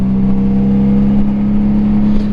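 A Honda GL1500 Goldwing motorcycle's engine drones loud and steady while riding, a continuous low hum with strong wind rush over it.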